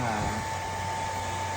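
A hair dryer on its cool setting blows a steady, close airy roar with a constant whine while straightening virgin hair, running evenly with no break.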